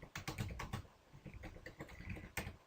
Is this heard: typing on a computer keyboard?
yes